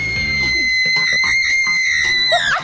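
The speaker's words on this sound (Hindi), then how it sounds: "पागलों की तरह चिल्लाना बंद करो।" A loud, sustained high-pitched scream from a person, strained and continuous for a couple of seconds, ending in a rising squeal, close to the listener.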